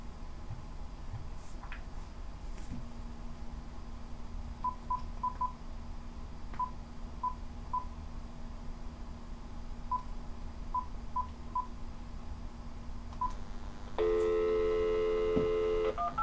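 Touch-tone telephone keypad dialing a call to Time Warner Cable customer service: a series of short DTMF beeps in irregular groups over a low steady hum, then a louder ringback tone near the end.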